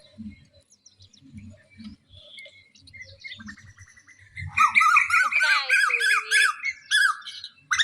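After some low murmuring, a common hawk-cuckoo bursts into loud, repeated squawking calls in a rapid series, close and clear.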